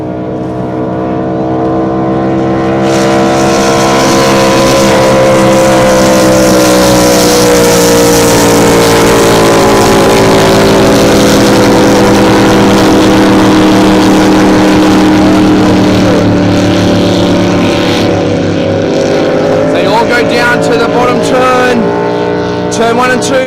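Powerboats in the 105 class race around a course. Their engines drone loud and steady, then fade and shift pitch as the boats move past, with a commentator talking over the roar.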